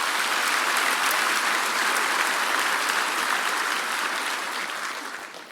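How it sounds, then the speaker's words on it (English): Sustained audience applause for sponsors at a fundraiser talk, a dense wash of many hands clapping at steady volume that tapers slightly toward the end. "Can we please have an applause for our sponsors?"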